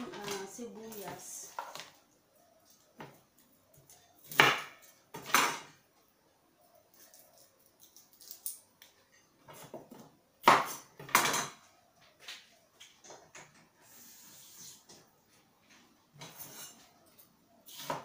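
Onion goes into a pan on the stove amid kitchen clatter, with sharp clanks of pots and utensils scattered between quiet stretches and a voice talking in the background.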